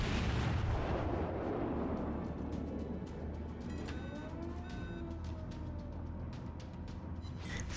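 The tier VII US battleship Colorado fires its main guns in the naval game World of Warships: a deep, heavy boom at the start rolls into a long, low rumble with faint whistling tones as it fades.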